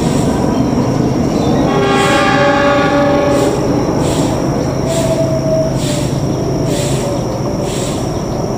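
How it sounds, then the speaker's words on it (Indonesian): Lodaya Pagi passenger train running straight through Gedebage station without stopping, a loud steady rumble of wheels and carriages with a sustained horn blast early on, continuing throughout. "Tapi Lodaya Pagi melintas langsung di stasiun Gede Bage."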